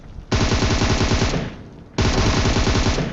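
Automatic weapon fire in the battle royale game PUBG, two long sustained bursts of rapid, loud shots separated by a brief pause.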